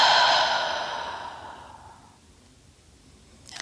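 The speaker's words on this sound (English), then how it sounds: "Take a super big, deep breath in. Open the mouth wide as you exhale." A long, deep breath pushed out through a wide-open mouth, loud at the start and fading over about two seconds into near silence, with a faint rustle at the very end.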